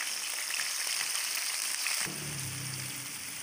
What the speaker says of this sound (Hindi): इसका कलर चेंज होने तक इसको अच्छी तरह भूनना है